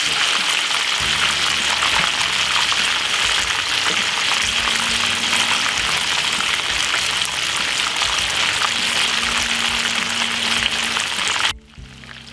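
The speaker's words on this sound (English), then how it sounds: "But I love to fry them like this." Fish sizzle steadily in hot butter in a pan, a constant loud hiss and crackle of frying that runs without a break until it suddenly cuts off near the end.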